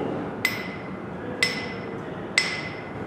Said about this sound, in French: Si on vérifie avec une meule qui est clairement fêlée, on va voir que le son est beaucoup plus sourd.